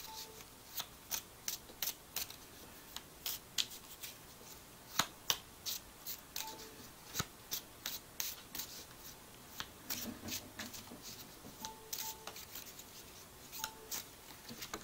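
Oracle cards being shuffled close up, a run of quick riffling bursts and soft slaps in an irregular rhythm, with no voices.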